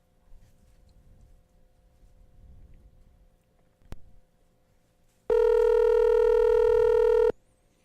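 A telephone call being placed: faint background noise and a click, then a loud steady ringback tone lasting about two seconds.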